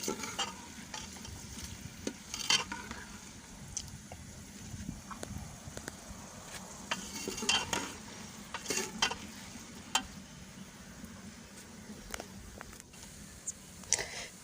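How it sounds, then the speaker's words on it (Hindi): Onions frying in a pan for chana gosht, with steady oily sizzling and repeated scraping knocks of a spoon stirring them, close and fairly quiet, no voices. "चम्मच चलाते रहेंगे, बस ये प्याज ब्राउन हो जाएंगे।"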